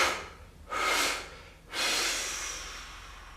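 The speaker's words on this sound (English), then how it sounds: "we're going to breathe in through the nose and then exhale forcefully 3 times" During a stress-relief breathing exercise, a person breathes through the nose with close, airy rushes: a sharp intake, a pause, then a long, forceful exhale.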